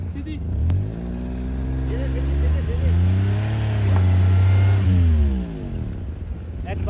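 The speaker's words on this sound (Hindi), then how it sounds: "उधर से भी गाड़ी आ रही है, स्लिप हो रही है वो गाड़ी बड़ी मुश्किल से आ रही है इधर।" A car engine revs hard and strains while its wheels slip on a snowy road in Murree, with pitch climbing, holding and dropping in repeated surges, loud and close.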